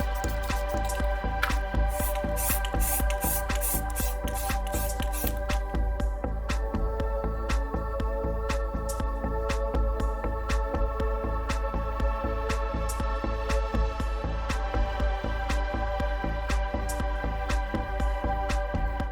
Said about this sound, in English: Hit these with 2 coats of white spray paint.